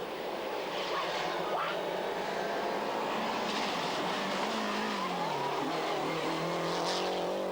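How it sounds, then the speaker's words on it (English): Lancia rally car racing on the 1995 Rali Vinho da Madeira, its engine roaring steadily and rising in pitch through gear changes, with tire noise and a continuous loud pass-by and no talk over it. "This the Lancia of Frenchman Yves Loubet"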